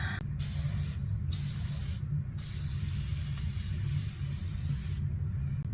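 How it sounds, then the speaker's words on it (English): Steady fine hiss of a facial mist spray, broken by several short pauses between continuous bursts, close and fairly loud. "I'm gonna do a little bit of some glowy setting spray"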